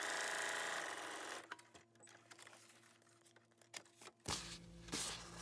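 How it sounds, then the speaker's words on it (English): A sewing machine stitches up the center fold of a paper booklet made from a single sheet, a steady close mechanical whir with rhythmic clicks that stops near the end, followed by faint paper rustling. "I'm just going to sew right up the middle here."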